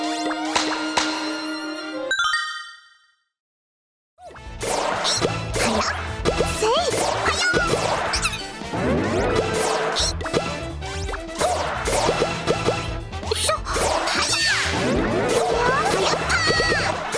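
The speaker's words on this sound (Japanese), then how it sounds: "もう少し水っぽい音、 ブシュッっていうみずみずしい音に変えてみました" Video game sound effects: a tonal chime, a brief silence, then a rapid series of bright, wet splashy bursts replacing a firecracker-like pop, popping in quick irregular succession over a busy musical background.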